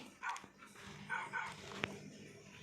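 A few short Minecraft dog barks, fairly faint and distant, with quiet background sounds between them.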